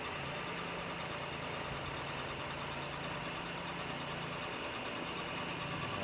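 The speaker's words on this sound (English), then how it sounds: "Spooled up, ready to go with the X-Team tractor." A tractor engine in a university student tractor pull competition runs at a steady, droning idle-like rumble, constant and fairly close throughout with no talk over it.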